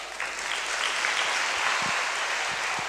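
A man claps his hands steadily and continuously outdoors beside papaya trees, a dense bright patter close by with no talk over it.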